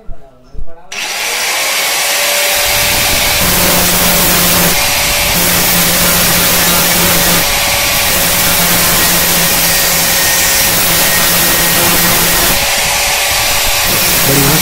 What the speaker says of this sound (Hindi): फिर उसको ग्राइंडर मार के प्लेन कर देंगे